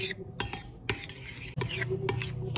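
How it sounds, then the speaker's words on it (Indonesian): A spoon stirs a mixture of sweetened condensed milk and a pinch of salt in a bowl, giving repeated scraping and clinking strokes at close range with no talking. "Selanjutnya aduk hingga tercampur merata."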